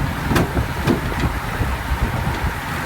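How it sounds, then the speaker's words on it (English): An unbuttoned back window on an ELF pedal vehicle flaps in the wind while rolling downhill at around 30 mph, a loud irregular fluttering buffet over broad rushing wind noise, no talking. "that noise you hear is the back window flapping in the breeze"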